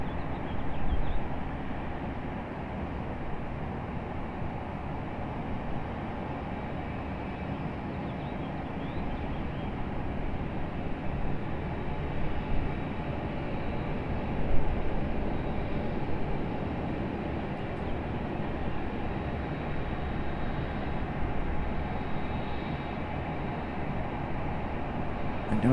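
Distant jet airliner rumble from a Delta Airbus A220 departing Raleigh-Durham airport under low cloud, a steady broad roar holding level for the whole stretch with no talking.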